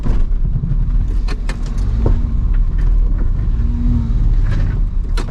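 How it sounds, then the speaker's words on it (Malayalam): A vehicle turns in reverse gear on a pothole-rutted road, giving a steady, close engine rumble with faint clinks and rattles throughout. "ഞാനിത് റിവേഴ്സ് ഗിയർ കൊടുത്ത് വാഹനം തിരിക്കുകയാണ്"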